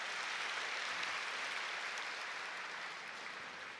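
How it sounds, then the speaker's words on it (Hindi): Audience at a spiritual gathering clapping in a steady, even wash of applause that holds level and then eases off slightly toward the end, with no voices over it. "हाँ ताली बजाओ ना जरा"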